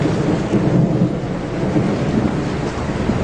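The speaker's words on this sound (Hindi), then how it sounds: "लगता है बारिश भी होने वाली है" Thunder rumbles continuously beneath steady rain, loud and close, with a dense low roll that never fully breaks across the whole stretch and no voices over it.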